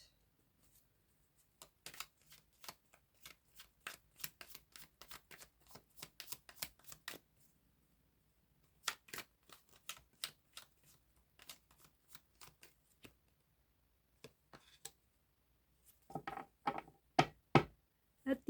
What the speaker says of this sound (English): Cards are flying out.